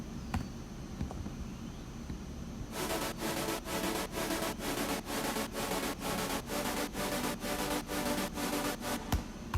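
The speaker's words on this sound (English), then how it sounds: "And there's a gated pad here." Gated synth pad from a progressive house track, chopped by Logic step effects into a two-step roll: after a quiet start, a steady train of evenly spaced pulses kicks in and repeats in tight rhythm until the end.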